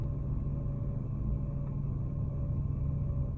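A Hyundai Tiburon engine idles with a steady low rumble, and a light, whistly alternator whine runs faintly through it. The sound is continuous and close, with no talking.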